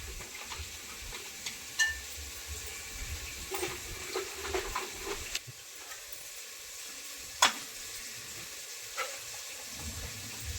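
Cinnamon and cloves frying in hot oil as the start of a mutton gravy, a faint, steady sizzle with occasional stirring clicks and scrapes, no talk.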